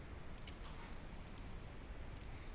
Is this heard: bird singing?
no